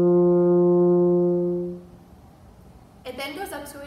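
A French horn holds a steady middle C in F horn scale practice, a rich sustained tone for about two seconds that fades out before a voice begins speaking.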